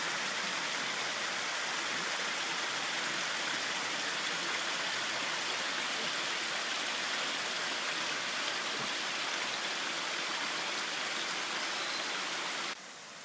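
A river in Japan, followed off the trail while hunting wasabi, rushes loud and steady with a broad, even splashing roar that barely changes throughout.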